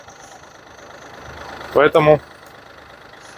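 Yanmar FF205D four-wheel-drive Japanese mini tractor engine running at a steady idle, a continuous low hum with someone briefly speaking over it midway.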